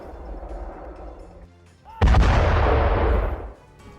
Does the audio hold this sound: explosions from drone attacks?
yes